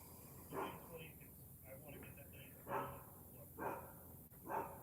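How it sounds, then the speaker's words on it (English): A dog barks somewhere in the house, four separate muffled barks spaced irregularly and fairly faint, heard under quiet indoor room sound. "I can hear my dog."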